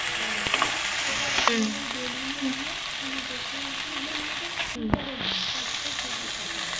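Potato and bitter gourd curry with mustard paste being stirred in a pan, a soft continuous sizzle with spoon scrapes and a sharp clack of the utensil partway through, close and moderately quiet.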